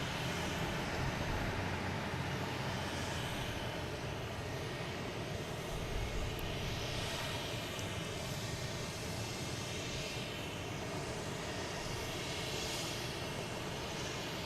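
An American Airlines Boeing 737-800 comes in to land at Boston Logan, its engine roar a steady, fairly faint rumble with a soft whine on top, heard without any talk.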